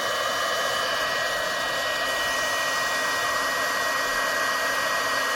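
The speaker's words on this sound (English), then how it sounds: "Got my heat tool here. We're going to make some noise and heat this powder up." A steady, loud blowing whir of a heat tool melting embossing powder runs continuously, a broadband airy roar with a faint high whine.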